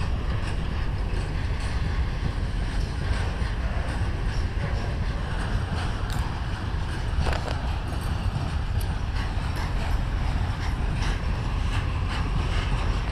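A PKP SM42 diesel locomotive rolls past with a continuous rumble and rhythmic rail clatter, moderately distant and steady throughout.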